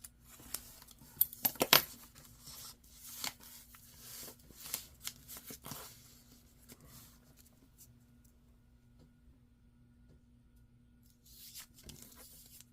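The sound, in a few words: cutting paper for a craft project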